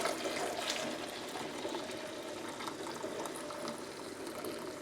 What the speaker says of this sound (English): Now I am going to attempt to pour this in this pitcher.